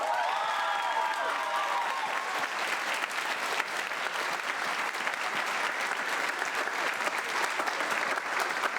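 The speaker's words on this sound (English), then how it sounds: "How about a round of applause for Mr. Andy Maycock?" A concert audience applauds in a hall at a spring concert, steady, moderately loud clapping that carries on evenly throughout, with a brief murmur of voices near the start.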